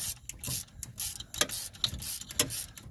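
A ratchet wrench with a deep 15 mm socket clicks in rapid bursts to remove the final alternator bolt on a 2003 Ford F-150, loud and close.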